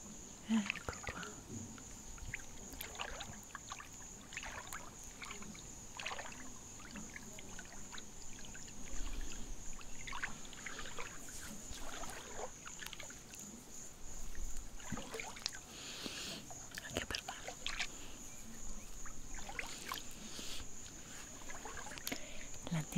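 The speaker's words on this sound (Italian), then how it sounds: "Quanto rilassante il rumore dell'acqua." Water splashes and sloshes intermittently in irregular bursts in a swimming pool, close by, over a faint steady high-pitched background hiss.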